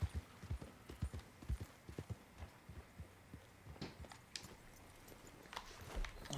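Horse hooves clip-clop in a steady riding gait in Red Dead Redemption 2, close and fairly soft, with a low ambient hum beneath and no voices.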